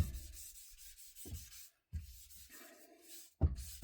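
A rag wipes stain onto hardwood in long, even swipes, producing soft rubbing strokes close by and repeated several times with brief gaps between passes.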